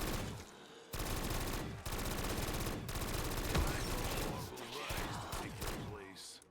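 MG08 machine gun from a tower map video game firing in long sustained bursts, loud and dense with brief gaps between strings of shots, voices talking over it.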